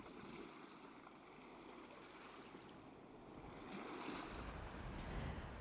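Waves breaking on a sandy beach, a faint, continuous wash of surf that swells slightly toward the end, distant and soft with light wind noise and no voices.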